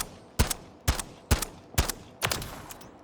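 Five sharp gunshots from Call of Duty MW3 target practice, fired at an even spaced rhythm about half a second apart, each a loud crack with a short tail, with no talk over them.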